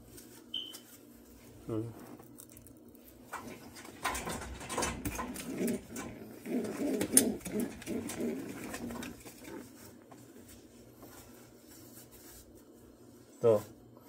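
Brief soft coos from a dove or pigeon, one early and one near the end, with rustling, tapping and faint voices in between.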